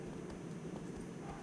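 Horse hooves clip-clop in a steady rhythm across the Shadow of the Colossus game world, fairly quiet and even, with no talk over them.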